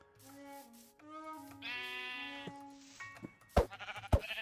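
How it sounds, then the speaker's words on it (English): Sheep in the Minecraft video game bleat in a series of close, wavering calls, several overlapping, followed by a couple of sharp thumps. "we'll get some more sheep here as well."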